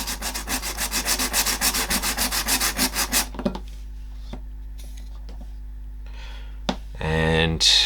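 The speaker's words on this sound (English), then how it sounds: "So I just put a file on the bench, hold the card at about 30 degrees" A card's bevelled edge is rubbed against a file lying on a bench at about 30 degrees, giving fast, rhythmic, close rasping strokes for about three seconds, followed by quieter handling noises and a final short burst of filing.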